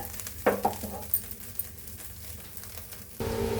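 Curry leaves and spices being dry-roasted and stirred in a pan for curry leaf podi, with soft scraping and rattling, a few brief clinks, and a low hiss that swells near the end.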